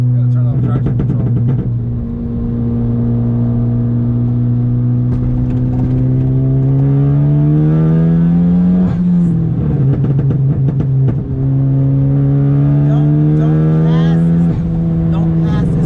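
A Ford Focus ST fitted with a big turbo accelerates hard, its loud engine drone climbing steadily in pitch, dipping briefly at a gear change midway, then climbing again, heard close from inside the car.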